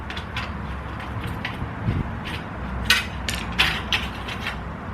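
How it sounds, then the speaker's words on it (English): Mechanical ratcheting clicks from a screwdriver or ratchet loosening the heat shield screw on a 2022 Kawasaki Ninja 400 motorcycle, close and moderately loud, with a few sharper clicks near the end over steady background noise. "Gotta release the screw off of the heat shield."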